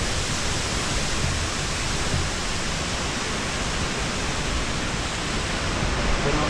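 A waterfall roars inside a cave at an amusement park, a dense, unbroken hiss of falling water filling the space at close range.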